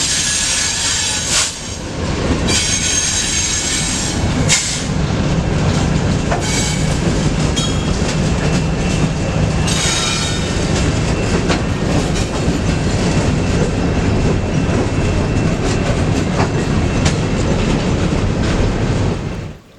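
A very long coal train with mid-train DPU locomotives rolls past, a loud continuous roar of rail cars with clickety-clack wheel beats and occasional squealing wheels, close and unbroken throughout.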